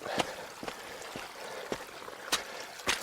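Meltwater runs and trickles steadily down a trail turned creek, broken by several sharp splashing footsteps at uneven intervals.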